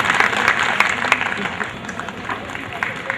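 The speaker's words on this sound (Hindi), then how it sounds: "करतल ध्वनि इतनी धीमी नहीं होनी चाहिए जितनी आप दे रहे हैं।" An audience at a Constitution Day event on a Lucknow campus gives light, scattered applause, a thin wash of hand claps that fades toward the end, with a few voices in the background.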